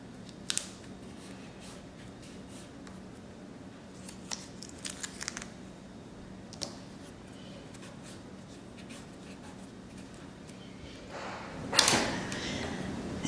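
Tape is pulled and pressed down to hold a plexiglass sheet over an image for drypoint etching. Faint scattered taps and scrapes come first, then a brief, louder burst of tape stripping off the roll near the end.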